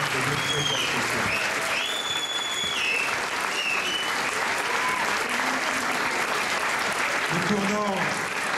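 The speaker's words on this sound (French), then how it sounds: "Vous pouvez encore une fois l'applaudir très fortement." An audience at a memorial tribute in Grenoble claps loudly in a sustained, dense burst of applause, with voices heard faintly under it.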